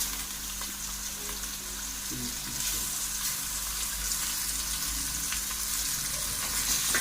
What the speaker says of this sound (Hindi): अब इसके अंदर डालते हैं गोश्त।